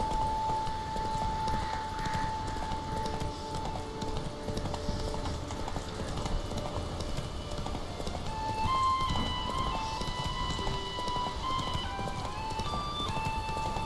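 A horse gallops in The Witcher 3 with rapid, continuous clip-clop hoofbeats at moderate volume, running under soft in-game music and ambience.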